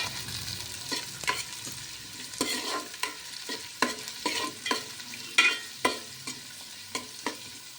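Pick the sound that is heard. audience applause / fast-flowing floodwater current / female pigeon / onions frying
onions frying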